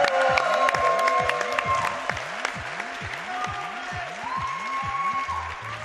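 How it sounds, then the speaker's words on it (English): Applause from a live audience at a charity speedrun event, a broad, steady wash of clapping that slowly fades, with a rhythmic pulsing music or game tone running underneath. "Give them a round of applause."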